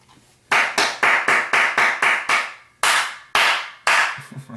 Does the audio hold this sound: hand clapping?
yes